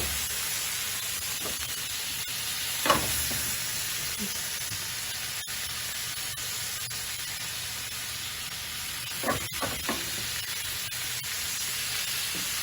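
Butter sizzling in a hot pot during a cooking demonstration, a steady close hiss running throughout with a few faint knocks and clatters, no voices over it.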